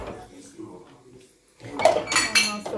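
Dishes and cutlery clink and clatter as a home dishwasher is emptied in a kitchen, starting with quieter handling and soft talk, then a louder burst of metallic and ceramic knocks.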